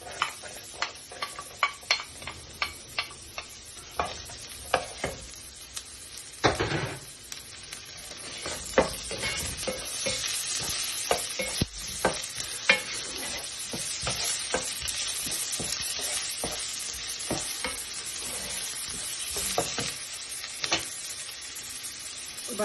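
Onions fry in a pan with a steady sizzle while a spoon repeatedly scrapes and stirs them, leaving sharp clicks and knocks at irregular intervals, close-up and fairly loud.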